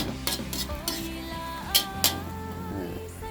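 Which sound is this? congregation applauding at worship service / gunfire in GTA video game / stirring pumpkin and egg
stirring pumpkin and egg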